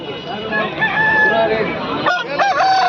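An Aseel rooster at a poultry market crows loudly and close, one long drawn-out call with a short break near the end, over a busy background of other fowl and market noise.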